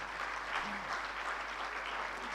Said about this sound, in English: I think we're going to give that another round of applause.